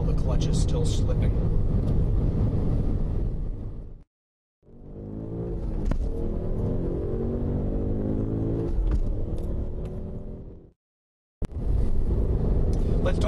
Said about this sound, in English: That sound coming down is you adding power while the clutch is still slipping